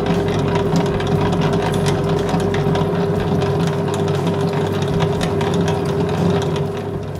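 An electric stand mixer kneads bread dough at second speed, a steady mechanical hum with a constant motor whine and rhythmic churning, running evenly and close throughout without talk.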